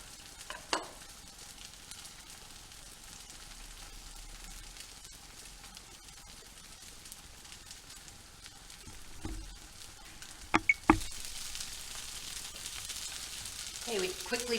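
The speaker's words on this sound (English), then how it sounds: "they're just going to brown for a few minutes in the pan." Tuna cakes browning in a stovetop pan give off a steady, fairly quiet sizzle, with a few sharp clatters near the end.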